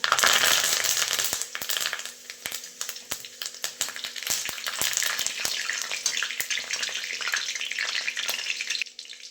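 Cumin, garlic and curry leaves sizzle and crackle in hot oil in a pan over a wood-fired stove, a close, bright frying hiss peppered with sharp pops and occasional stirring clicks, fading near the end.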